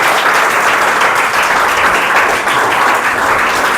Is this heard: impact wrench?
no